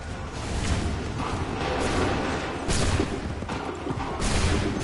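A line of soldiers fires a musket volley on command in Assassin's Creed III Remastered, with dense rumbling blasts and booms rolling across a noisy battlefield in several loud surges.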